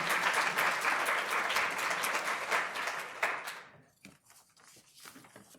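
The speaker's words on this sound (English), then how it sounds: "Please join me in a round of applause for thanking them for their work." Applause from an audience at an intellectual property law event, a dense, even round of clapping that fades out after about four seconds, leaving a few sparse claps and quiet room noise.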